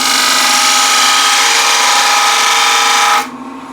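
A woodturning gouge riding the bevel on a spinning lathe workpiece, a loud, continuous tonal cutting hiss that stops abruptly near the end, leaving only the quieter hum of the lathe.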